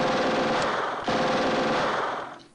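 Sustained machine gun fire from the Steel Panthers WW2 war game, a loud, dense rattle of rapid shots lasting a couple of seconds with a brief break near the middle before trailing off.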